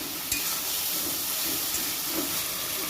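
Turmeric powder, salt and spices sautéing in a pan for an egg pakora curry, giving a steady low sizzle and faint stirring scrapes throughout, with no talking.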